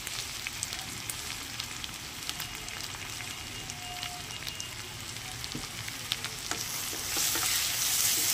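Small kaichki fish seasoned with salt and turmeric fry in oil in a pan with a continuous crackling sizzle, broken by occasional stirring clicks, growing a little louder toward the end.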